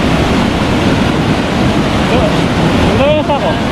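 Strong rushing water at a dam makes a loud, continuous roar with no letup, and a voice briefly rises over it near the end.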